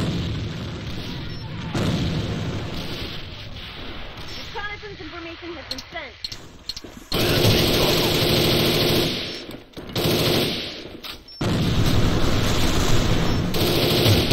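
Bursts of FA-MAS MK3 rifle fire in the shooter game A.V.A ring out loud and close, long sustained volleys broken by short pauses, with brief voice chatter during a quieter stretch.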